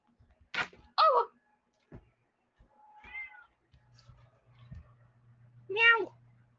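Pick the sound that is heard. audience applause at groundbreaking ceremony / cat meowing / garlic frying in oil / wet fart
cat meowing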